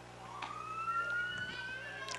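A wailing siren sweeps up and down at moderate distance along Ashley Street in Valdosta, heard from an outdoor softball game, over a steady low hum of street noise.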